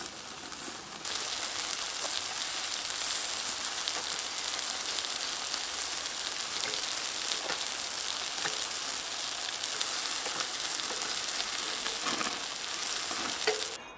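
Lamb chops cook over direct heat on a grill, giving a steady, dense crackling sizzle that runs unbroken at even loudness from start to finish, with no voices.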